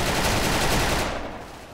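Gunfire in the shooting game Special Force, a dense, loud burst of rapid automatic shots that rolls on continuously, then tapers off and fades near the end.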